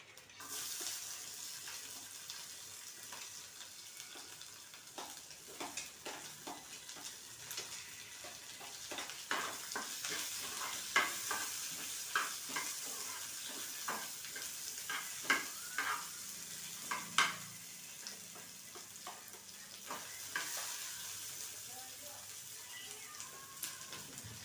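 Dry spices such as coriander seeds sizzle in a hot pan with onions for dum aloo, giving a long steady fizz broken by repeated clinks and scrapes of stirring, close and with no talking.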